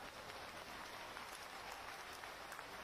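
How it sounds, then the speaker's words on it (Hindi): An audience at a political meeting with Shivraj Singh Chouhan claps in a faint, distant, continuous wash of applause that sounds almost like rain, holding evenly with no voices over it. "तो इस पे तो जोर से ताली बजाओ ना।"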